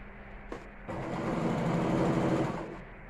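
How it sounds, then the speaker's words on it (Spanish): A sewing machine stitches slowly through thick fabric scraps for a long rug, a loud close whirring run that starts after a brief burst, holds steady, then stops, with no talk. "es muy grande y la tela es muy gruesa y tengo que coser un poco despacio"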